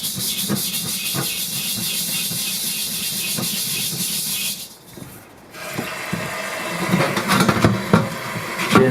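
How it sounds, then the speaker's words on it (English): Steel wool rasps hard against a rusty carbon-steel wok, a dense continuous hissing scrape with rhythmic strokes, pausing briefly midway before resuming louder and more uneven. "So what we're doing is we're scrubbing the rust off"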